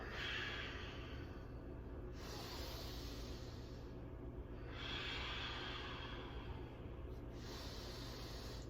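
Slow, deep breaths during a moving meditation, several soft inhales and exhales that swell and fade in long, even cycles, close and quiet with no talking.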